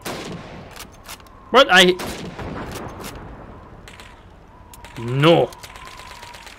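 Gunshots ring out at teddy bear targets in the Call of Duty 2 video game, a few sharp cracks spread across a quiet firing range, with short spoken exclamations between them.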